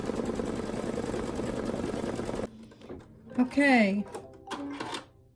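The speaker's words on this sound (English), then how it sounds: "So I'll zoom in so you can actually see some of it as it's sewing." A Luminaire quilting machine stitches a border design, a steady fast mechanical hum that runs for a couple of seconds and then stops, followed by a voice speaking briefly.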